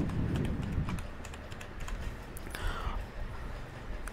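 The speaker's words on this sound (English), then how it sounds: "So I have typed a password" A password is typed on a computer keyboard in Windows 10, a steady run of quiet, close key taps over faint background hiss, with no voices.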